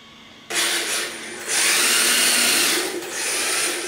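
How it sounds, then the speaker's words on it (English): HSP Nissan GTR 1/10 drift RC car with a brushless motor whining as the throttle is blipped: a loud, close electric whir surging up, easing briefly, then holding high before a short dip and rise. "This is the power of brushless motor, see? I'm just touching the throttle"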